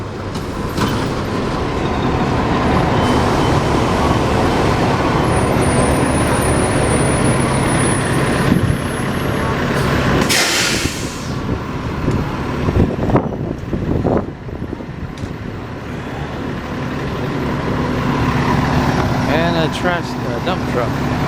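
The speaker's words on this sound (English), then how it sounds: "And a UPS truck" A UPS delivery truck drives past along a busy Hartford street, its engine and road rumble rising and fading amid steady traffic, with a sharp hiss midway and people talking nearby.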